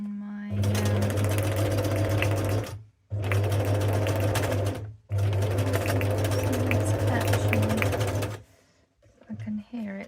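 A sewing machine running in three loud, close bursts separated by brief stops while the thread jams into a tangled bird's nest underneath, followed by a few clicks and rattles.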